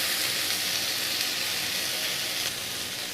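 Boiled chickpeas fry in a hot pan with a continuous, even sizzle, loud and close, with no voices.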